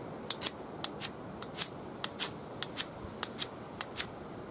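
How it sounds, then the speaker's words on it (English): A knife scrapes paint off an old ferro rod in a series of short, crisp rasping strokes, irregularly spaced and fairly close, with quiet pauses between them. "I'll scrape the paint off first."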